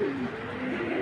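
A Giribaz pigeon coos steadily and continuously at close range, a low, droning, throaty call held against light background noise.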